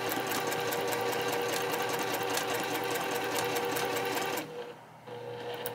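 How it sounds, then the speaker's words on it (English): A sewing machine stitches a drawstring project bag in a fast, steady, close mechanical whir, then cuts off abruptly near the end before faintly resuming. "So we start sewing on that, and then by the time this goes through, we've got a nice clean edge."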